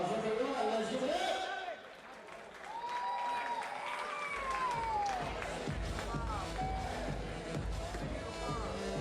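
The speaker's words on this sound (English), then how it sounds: "Let's give him another big round of applause," An audience applauds at a WBC boxing event, with sustained clapping and crowd noise filling the hall while a voice talks loudly over it.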